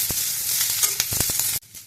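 Paneer fries in a hot pan with capsicum, garlic and chili, giving a loud, close sizzle with crisp spattering and a few stirring clicks before the sound drops away abruptly.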